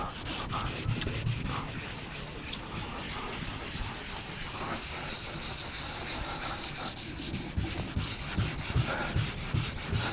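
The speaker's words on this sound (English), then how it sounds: "when you're sanding a vehicle down" A sanding block works over a vehicle's painted body panel with steady back-and-forth rubbing strokes, a close, rhythmic abrasive scrape that continues for about ten seconds.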